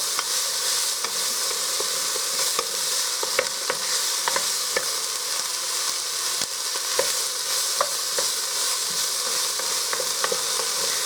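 Vegetables sauté in a soup pot with dehydrated garlic for corned beef and cabbage soup, a steady close sizzle and hiss running throughout with scattered crackles and pops, no talking.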